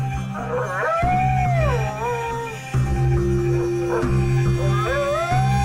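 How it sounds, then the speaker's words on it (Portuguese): Strange wavering howls rise and fall at night in a forest, repeating several times over a steady low rumble of background noise, sounding moderately distant. "O estranho uivo diminui e a equipe avança para a floresta."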